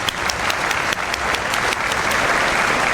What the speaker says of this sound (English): Let's give Costa Mesa's team a big round of applause.